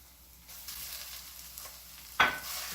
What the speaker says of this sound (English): we're gonna spend the bulk of our time here browning the meat